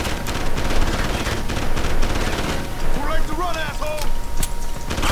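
Gunfire in Deus Ex: Human Revolution, a stream of sharp gunshots with whirring game effects in a loud, busy firefight, with a person talking over part of it.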